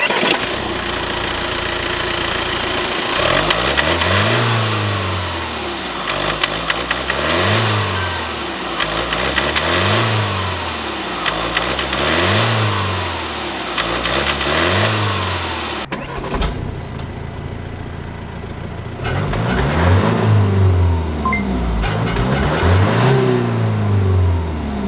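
An Audi Q5 40 TDI quattro with a 2.0-litre inline four-cylinder turbo-diesel direct-injection engine runs through a series of rhythmic revs that rise and fall about six times, then settles into a lower idle, heard close with no talk.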